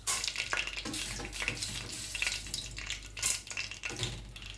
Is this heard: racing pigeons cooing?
no